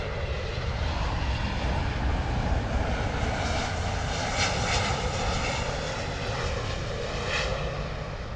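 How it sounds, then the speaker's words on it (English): A JetBlue Airbus A321neo lands at London Heathrow from New York, its engines a steady, moderately loud rumble with a hiss that swells slightly midway, no talk over it. "JetBlue A321neo coming in from New York"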